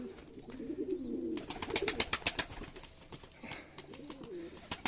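Pigeons coo in a coop, soft throaty calls repeating at close range alongside scattered clicks and rustling from the birds.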